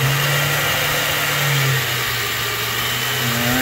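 Taig milling machine spindle fitted with a BT30 face mill spinning up toward about 7,000 RPM, a loud steady mechanical whine and hum with a tone that drops then climbs again, no talk.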